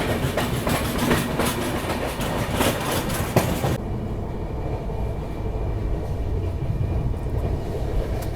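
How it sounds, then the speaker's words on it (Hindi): Indian Railways Poorva Express passenger train running at about 130 km/h, a steady loud rumble with rhythmic clatter from the wheels. The hiss fades partway through and the deep roll carries on. "अपनी ट्रेन 130 की रफ्तार पर चली रही है"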